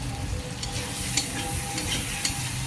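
Stone-ground spice paste fries and is stirred in a pan for a local chicken curry, giving a loud, continuous sizzle with scraping spoon strokes throughout and no voices.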